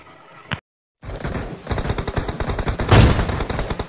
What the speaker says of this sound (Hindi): इसमें हमारे कैरी भाई एक के बाद एक ओम के हेडशॉट लगाते हुए नजर आए हैं